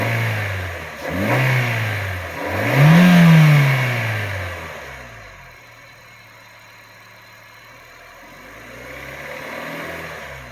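A 2007 Honda Fit Sport engine revs up twice in quick rising surges, then drops back to a low rough idle, close by, with a low rattle beneath the revs; no talking.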